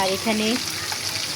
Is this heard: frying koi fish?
yes